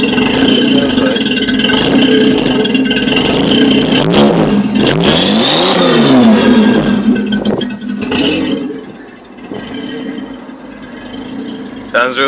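Datsun 280Z with a stock 2.8-liter engine, cold air intake and Flowmaster Super 44 dual side exhaust revs hard and close, the pitch sweeping up and down through several blips before settling to a rougher idle near the end.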